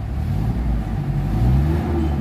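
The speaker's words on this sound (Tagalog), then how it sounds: "maririnig mo na yung galit ng makina" The engine of a Mitsubishi Adventure, recently treated for weak pulling and low power, revs up from idle with a deep, close, rising growl and no voices over it.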